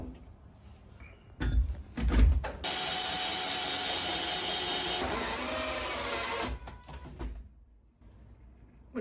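A power tool grinds into metal wire buried behind plaster in a wall. It starts with a few rough bursts, then gives a sustained loud whirring, grating run of several seconds before it stops. No voices are heard.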